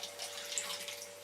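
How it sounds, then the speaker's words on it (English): Water poured into the bottom of a casting mould for concrete modelmaking blocks, a short, quiet splashing trickle heard alone. "one trick I've found is to put water in the bottom"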